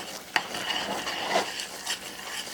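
Butter and cream stirred into hot caramel off the heat for a dark chocolate salted caramel tart, a steady soft bubbling sizzle with scraping stirs and one sharp tap against the pan.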